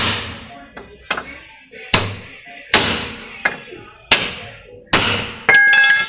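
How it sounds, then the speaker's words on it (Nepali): Hammer blows on a Mahindra Scorpio lower ball joint being driven up into place, about eight sharp metallic strikes spaced out unevenly, close and loud, with a voice briefly speaking. "अब हामी ठोक्ने स्टार्ट गर्छौँ।"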